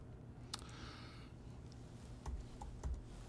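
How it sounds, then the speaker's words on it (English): Typing on a computer keyboard while using a macOS Tahoe beta, a few quiet soft key clicks spread irregularly over a low background hum, with no talking. "So you start typing"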